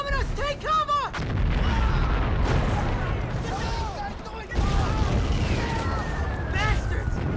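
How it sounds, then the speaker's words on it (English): Artillery bombardment in a war movie battle scene: continuous heavy rumbling blasts and booming explosions with swooping whistles, shouting voices mixed into the loud, dense din. "Our guys are bombing us! Take cover!"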